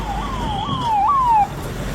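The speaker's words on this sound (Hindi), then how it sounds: "चारों तरफ एम्बुलेंस के सायरन गूंज रहे थे।" An ambulance siren wails in the aftermath of the Pahalgam attack, a single rising and falling tone sweeping over a steady traffic rumble, fairly loud and close.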